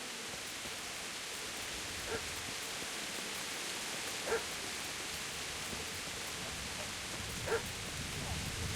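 A dog in Kingdom Come: Deliverance lets out three faint, separate barks a couple of seconds apart, somewhat distant under a constant wash of outdoor noise.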